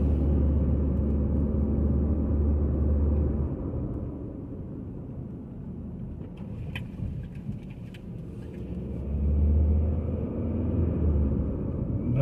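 A car on a residential road rolling over a few speed bumps: a steady low road rumble, with heavier low-end thumps near the start and again around the ninth second as the tyres cross the bumps.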